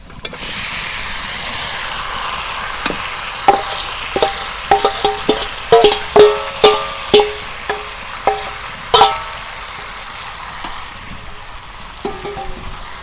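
Potato chicken curry sizzles and hisses in a pan while a spoon stirs it, with a series of distinct scraping knocks against the pan over the steady close frying noise.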